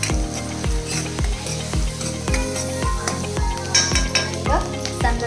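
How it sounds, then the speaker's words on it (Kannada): Onions fry and sizzle in a pan for a Kannada-style matar bhaji, with a steady loud sizzle and regular rhythmic scraping strokes of a spoon stirring against the pan. "ಉಳ್ಳಾಗಡ್ಡಿ ಒಂದು ಸ್ವಲ್ಪ ಫ್ರೈ ಆಗಲಿ"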